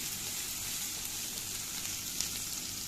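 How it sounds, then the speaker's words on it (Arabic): Garlic and oil sizzle steadily in a pan as ingredients sauté for a quick pasta dish, a constant close frying hiss with no talking. "ريحتها بس تطلع نشوح الاتنين مع بعض كده"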